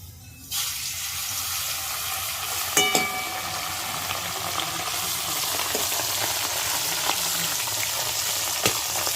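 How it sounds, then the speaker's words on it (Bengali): Small chuno fish drop into hot oil, setting off a sudden loud sizzle that holds steady with occasional sharp crackles and clinks. "তেল গরম হয়ে গেছে, চুনো মাছগুলো দিয়ে দিচ্ছি।"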